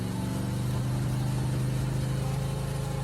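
An amphibious military truck's engine runs steadily just after starting, a loud, continuous low rumble with an even, unbroken drone and no voices.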